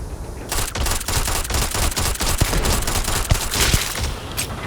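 Rapid, loud gunfire in Starfield while sniping, a dense run of sharp cracks with little pause across the whole stretch.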